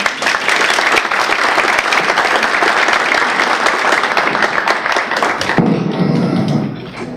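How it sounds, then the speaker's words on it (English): An audience applauds at a community meeting on Lake Granbury water management: dense, loud clapping from a crowd for about five seconds, then thinning to a few scattered claps and fading out. "will you join me in thanking Joe for coming tonight"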